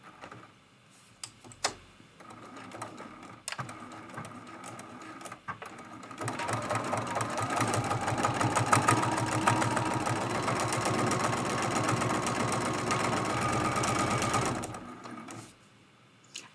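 A sewing machine quilting a lamp post art quilt runs continuously for about eight seconds, a close, steady rapid whirring stitch, preceded by a few scattered clicks and handling noises.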